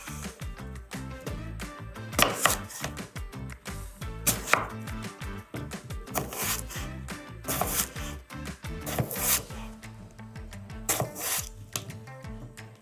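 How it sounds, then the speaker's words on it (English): A knife cuts potatoes for homemade fries on a board. Crisp, close chops come in irregular bursts, with repeated sharp strikes and rubbing slices in between. "We're going to start off right away with cutting up our potatoes."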